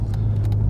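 A Seat Leon Cupra R 1.8T BAM 225 with a 3-inch Cobra straight-through turbo-back exhaust, induction kit and rear free-flowing silencer, idling with a deep, loud, steady low rumble heard alone in a short burst.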